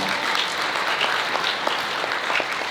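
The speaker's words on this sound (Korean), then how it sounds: "여러분 다시 한 번 박수 부탁드리겠습니다." Wedding guests at Amoris Yeoksam give a steady, close, even round of applause during the ring exchange, dense clapping that continues without a break.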